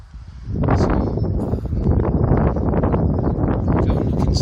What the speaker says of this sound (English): It's only had a few hours, but it is a bit windy.